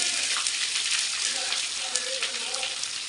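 Steady crackling sizzle of onions frying in hot oil with dried chillies, close and continuous, with a faint voice murmuring underneath.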